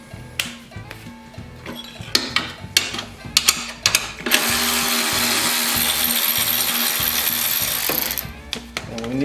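A ratchet with a 7/16 shallow socket works bolts loose on a Toro CCR 3650 snowblower, giving sharp metallic clicks and clatter in bursts, then a steady rasping whir for several seconds before more scattered clicks.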